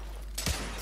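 A single sharp gunshot blast in the PS4 game The Order: 1886, loud and close, followed by a brief rumbling tail over a steady low background hum.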